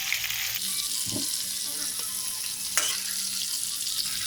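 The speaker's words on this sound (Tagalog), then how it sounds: "lagyan natin ngayon ng konting flour na sinunaw para medyo lumapot yung sabaw ng ating chopsuey" Dissolved flour stirred into a simmering chopsuey broth gives a steady sizzle and liquid bubbling, with a brief stirring or pouring splash near the start and a short clink partway through.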